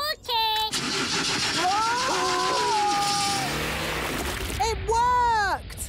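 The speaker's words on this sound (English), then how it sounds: "It's just like getting a car to start." A cartoon spaceship engine being started like a car, with sputtering, rising and falling mechanical whines under loud excited voices, ending in a burst as it catches.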